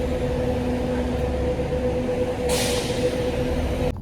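A steady low engine hum and rumble from a vehicle, continuous throughout, with a brief hiss of passing noise near the end.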